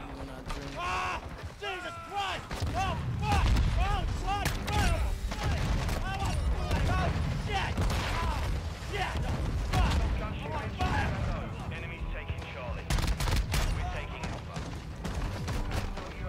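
Rapid gunfire from the video game Modern Warfare II, dense bursts and impacts running continuously through the whole stretch, loud and busy, with a voice talking over parts of it.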